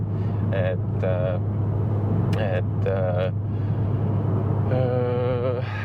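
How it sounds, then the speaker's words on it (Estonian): A SEAT Leon Cupra 300 engine hums at a steady, constant pitch around 3000 rpm, low and continuous, while someone talks over it. "Mina naudin praegu küll neid hääli, et lasta siin praegu niimoodi undab selle 3000 pöördega"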